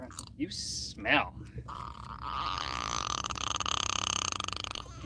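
A freshly caught lake trout burps while being handled on a fishing trip. There is a brief gurgling burst near the start, then a long low rumbling, bubbling sound that runs on with steady pulsing, close and fairly loud.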